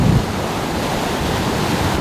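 Overflowing water at Manavgat waterfall roars as a dense, steady wash of noise, loud and near, with some wind buffeting the microphone and no voices heard.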